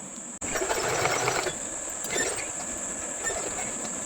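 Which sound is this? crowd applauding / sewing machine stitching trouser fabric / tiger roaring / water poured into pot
sewing machine stitching trouser fabric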